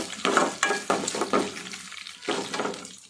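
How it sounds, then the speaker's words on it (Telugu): Mustard seeds, urad dal and garlic fry as a tempering in hot oil, giving a steady close sizzle with crackling bursts and the scrape of stirring, no voices. "ఎల్లుల్లిపాయ ఇలాంటి పోపులు వేపినప్పుడు ఎల్లుల్లిపాయ కొంచెం బాగా వేగితే మంచి ఫ్లేవర్ వస్తుంది"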